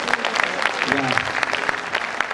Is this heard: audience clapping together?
yes